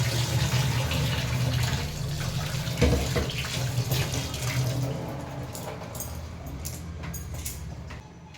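Running tap water rushing steadily while singhi fish are washed with salt, close and continuous, tapering off toward the end.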